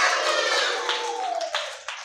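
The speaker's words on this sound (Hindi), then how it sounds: "अब बजाओ हमारे छत्रपाल के लिए तालियां।" Children clap for a storytelling lesson, a scattered burst of hand claps over a sustained whistling tone, dropping to a few uneven claps toward the end.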